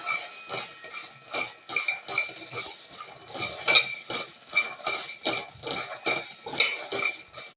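Dried peas dry-roasting in a pan on a gas stove, stirred with a utensil, giving a steady run of close metallic scrapes and rattling clinks in an uneven rhythm, with no talking.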